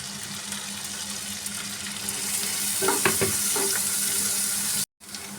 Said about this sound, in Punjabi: ਪਿਆਜ਼ਾਂ ਨੂੰ ਆਪਾਂ ਇੰਨਾ ਕਿ ਭੁੰਨਾਂਗੇ